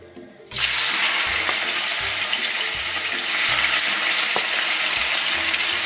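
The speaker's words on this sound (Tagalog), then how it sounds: "Hintayin lamang po natin uminit ang mantika bago po natin isalang ang ating chicken." Skinless boneless chicken pieces drop into hot cooking oil, setting off a loud, steady broadband sizzle that starts abruptly after a brief quiet moment and keeps crackling without pause, with a few faint low clinks underneath.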